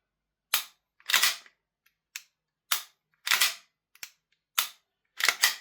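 A VFC Walther PDP airsoft pistol is dry fired repeatedly, giving about eight sharp mechanical snaps of the slide and trigger at uneven intervals, close and crisp with silence between them.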